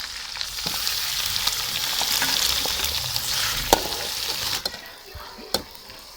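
Chicken sizzling and frying in a pan with ginger-garlic paste, a steady loud crackle running throughout with occasional stirring clatter and faint background voices.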